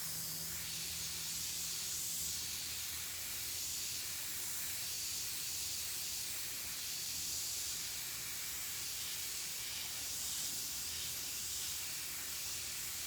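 An airbrush hisses steadily as it sprays thinned paint onto a shirt, a constant close, soft airy spray with no talking.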